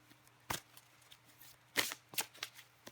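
Tarot cards are drawn and shuffled for a weekly Libra reading, heard as a few quick, soft riffling bursts and light papery flicks close by in a quiet room.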